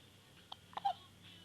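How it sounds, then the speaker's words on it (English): A young child hiccups softly, with one or two brief, quiet gulps and a faint vocal catch in an otherwise calm, quiet room. "You got the hiccups."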